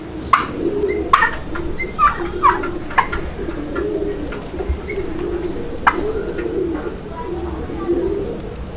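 Domestic Deshi Raj Golla pigeons coo in repeated low, soft rolling calls at close range, mixed with a few sharp chirps and faint background voices.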